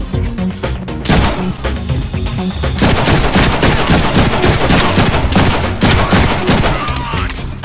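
Gunfire from guns in the Deadpool video game, dense and loud with continuous rapid shots and bursts layered over one another for several seconds, no talk.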